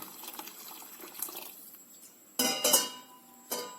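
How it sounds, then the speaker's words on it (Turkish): Water, about two litres, poured into a pot while making Turkish flour soup: a soft running trickle at first, then louder splashing gushes with faint clinks, ending in one last short splash. "yaklaşık 2 litreye kadar suyumuzu ilave ediyoruz"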